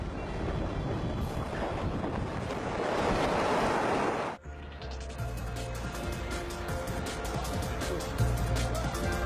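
Strong typhoon wind and waves at sea near a bridge under construction, a continuous loud roar of gusting wind and surf that briefly dips then resumes, with faint background sound.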